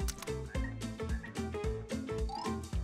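Frogs croak loudly and repeatedly in a steady, pulsing rhythm, the deep croaks packed close together with no speech.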